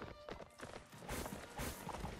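Horse hooves clip-clop in the Napoleonic Wars game during a public line battle, a steady trotting rhythm buried in dense, noisy battlefield ambience.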